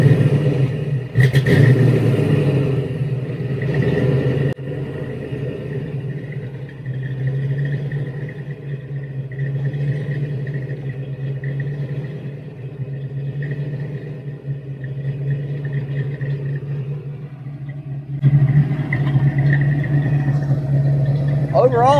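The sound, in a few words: 347 stroker engine starting and idling in a coupe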